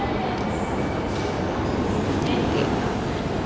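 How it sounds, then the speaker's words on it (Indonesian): A train runs through a Singapore station toward Marina Bay, giving a loud, steady rumble of wheels and carriages with faint high squeals over it. "kita naik kereta yang di situ."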